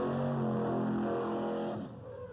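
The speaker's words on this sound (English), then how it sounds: "They're getting ready, revving up that customized truck." A customized fire truck at a firematic competition revs its engine with a throaty harmonic roar that holds, then sags in pitch and fades near the end, heard alone.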